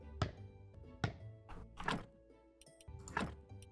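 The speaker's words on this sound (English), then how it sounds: "I think destroying the study table erased all the science we had in it" A study table is smashed apart in the video game Graveyard Keeper: four heavy, evenly spaced wooden thunks, each a short dull impact, with light clicky interface blips between them.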